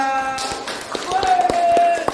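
Applause for group 2 at a school or training presentation, scattered hand claps from a small audience, irregular and moderately close, over a sustained tonal hum.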